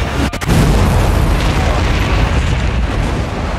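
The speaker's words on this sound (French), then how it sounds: "On vient de subir plusieurs explosions" Explosions at the Boston Marathon in a film trailer, a loud, close blast followed by a sustained rumbling roar and debris noise.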